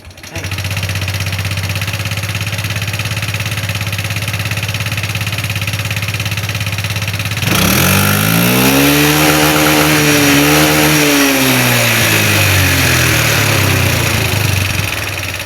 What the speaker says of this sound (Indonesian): motor Honda Beat CBS ini suaranya sangat kasar sekali, teman-teman. Bunyinya suaranya tek tek tek tek